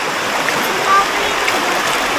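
Forceful rush of reservoir water flowing across a road, a loud, steady broadband roar filling the whole moment without clear speech.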